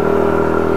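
A Yamaha NMAX V1 scooter engine drones with a steady, loud mechanical hum over a short stretch, with no break or change in pitch.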